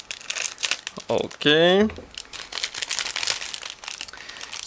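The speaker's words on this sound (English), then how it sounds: "just give me a sec to cut through this sealed plastic bag" A sealed plastic bag holding parts of a Miniart 1/35 scale tram model kit is cut open, giving close crinkling and rustling with a brief ripping scrape, while a person speaks briefly.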